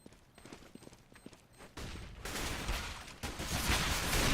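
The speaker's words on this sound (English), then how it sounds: "Gunfire outside of the B bomb site." Gunfire in the CS:GO video game during a competitive match, scattered shots at first, then a dense, loud, sustained volley of rifle fire near the B bomb site.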